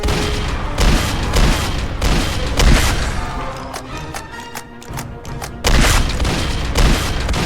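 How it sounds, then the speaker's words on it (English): Loud, rapid gunfire from the train video game Dead Rails, with repeated booming shots in close bursts, a short lull of quieter rattling midway, then heavy firing again. "why am I shooting glitched?"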